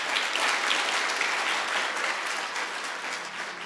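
A church congregation claps together in steady, full applause that fades slightly toward the end.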